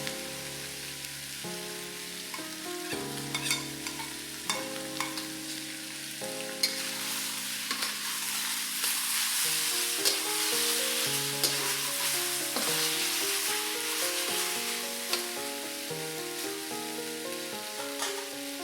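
Beef stir-frying in a wok with cilantro, chili and cumin powder over medium-high heat gives a steady, loud sizzle with scraping stir strokes throughout. Gentle background music plays underneath, and no one speaks.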